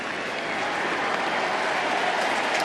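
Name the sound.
crowd applause ovation at Nationals Park baseball game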